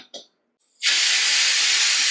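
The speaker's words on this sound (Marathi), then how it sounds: "वाफेवरती ती कैरी किमान 3 शिट्ट्या आपल्याला ह्याच्या करून घ्यायच्या." Steaming raw mango in a pressure cooker, the whistle suddenly lets go with a loud, sustained hiss of escaping steam after a few faint clicks and a brief sound that may be speech.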